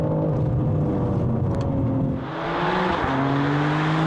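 BMW G80 M3 fitted with a full Capristo exhaust: a loud, close engine drone that rises in pitch, dips briefly as if shifting gear, then climbs again in a strong rev, with no voices.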